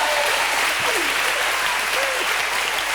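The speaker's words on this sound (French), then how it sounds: "Portugal, on applaudit." Steady audience applause fills a hall at an awards presentation for a Portuguese salt cod entry, a dense even patter of many hands without pause.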